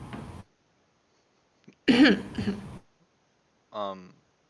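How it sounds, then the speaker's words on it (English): A person gives a short deliberate cough and throat clearing to get attention, a brief close bark followed by a second rougher clearing and a short vocal sound, with silent gaps between. "I kind of just make a little cough just to try to get his attention."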